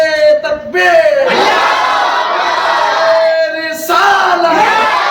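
A large crowd at a religious gathering chants a slogan back in unison, loud massed voices swelling in two long waves with a brief lull between, preceded by a single voice leading the call.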